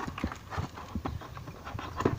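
Hoofbeats of a horse in a video game, a quick clip-clop of soft, fairly close steps in an irregular rhythm, with no talk over them.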